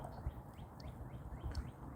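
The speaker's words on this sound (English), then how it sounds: "That bird almost scared me." A bird calling in Michigan woods during a garter snake search, repeated faint chirps at a loose rhythm, distant and quiet over a busy low rumble of outdoor noise.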